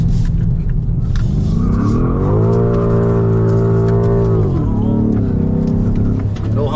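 A 625 HP BMW M5 Competition revs hard at launch, a loud sustained engine note climbing steadily in pitch, holding high, then dropping back as the car shifts, close and continuous with no talk.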